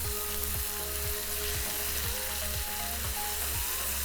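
Beef searing and caramelizing at the bottom of a stir-fry pan gives a steady, fairly quiet sizzle that holds evenly for a few seconds, with a faint low rhythmic thumping underneath.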